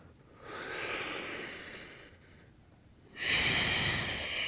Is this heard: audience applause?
no